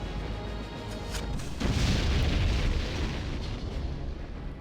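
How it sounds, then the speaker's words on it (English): A grenade goes off during a battle in the video game Septerra Core, a deep booming blast rising over a continuous rumbling game soundscape. "these 3 should get hit by grenade"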